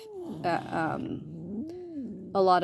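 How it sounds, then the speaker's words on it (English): Cats at an animal rescue react to newly arrived kittens with a few short, close meows and a wavering growl-like wail, and a quiet voice talks in the background. "I've got some new kitties in here that aren't real sure about the other kitties yet."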